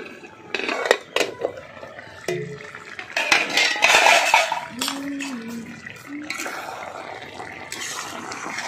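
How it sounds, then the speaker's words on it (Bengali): A metal lid is lifted off a cooking pot of bottle gourd with cashews, giving close metallic clinks and scrapes, followed by softer kitchen clatter and faint bubbling. "ঢাকনাটা খুলে নিচ্ছি।"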